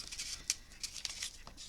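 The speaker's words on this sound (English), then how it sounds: "So I cut that out with my scissors" Scissors snip through paper for a handmade memory book, a run of short crisp cuts at an irregular pace, close and quiet with no talking.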